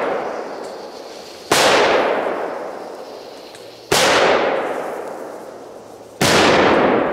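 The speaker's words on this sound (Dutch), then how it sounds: "Wat een knallers, jongens" Powerful Polish firecrackers from a Polish market explode outdoors, three loud, sharp bangs a couple of seconds apart, each trailing into a long echoing decay, with no talking.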